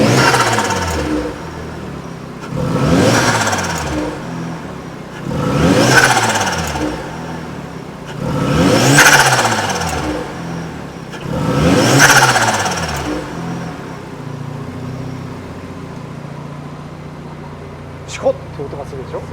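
A 2000 Mazda RX-7 FD3S Type R with a rotary engine and a blow-off valve is blipped five times in an even rhythm, each loud rev swelling and falling back to idle, followed by a short sharp hiss.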